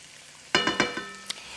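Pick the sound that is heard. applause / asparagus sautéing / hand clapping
asparagus sautéing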